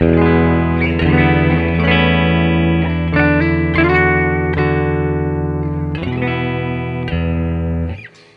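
A clean, undistorted electric guitar rings out in sustained chords and single notes, bright and close, playing alone for several seconds before fading, with no overdrive, distortion or booster pedal engaged.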